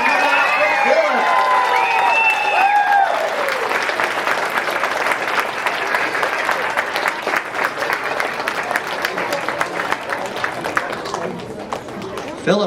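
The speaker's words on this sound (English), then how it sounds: "How about a giant round of applause for Phillip Chew?" A school audience on campus breaks into loud, sustained applause with cheering and crowd noise, opening with excited whoops and shouts before settling into dense clapping that carries on for over ten seconds.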